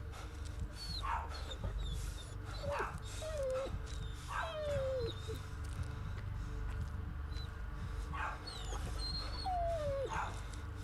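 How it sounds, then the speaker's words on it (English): A pet dog downstairs in a house barks and whines agitatedly, distant and muffled, with several rising yips and whimpers spread across a steady background hum. "Now my actual dog's barking downstairs."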